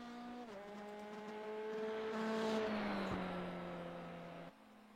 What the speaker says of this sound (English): Subaru sounds great on low revs